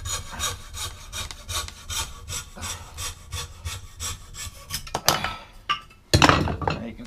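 A fresh blade carves the back of a wooden spoon held in a vise, making repeated rhythmic scraping and shaving strokes on wood, close and clear, ending with a few louder knocks and scrapes.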